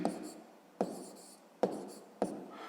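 Numbers written by hand with a pen on paper: four distinct scratchy strokes, each starting with a small tap, spaced evenly and close up in quiet surroundings.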